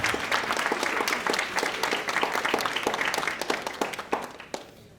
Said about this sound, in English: So please give your families a round of applause.